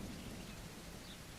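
Rain falls in the video game Deadside, a steady wash of drops on surfaces with a low thundery rumble beneath, faint and uniform throughout.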